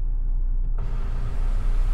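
A car on the road rumbles with steady low engine and road noise from inside the cabin, and a brighter wind and tyre hiss builds partway through as it picks up speed.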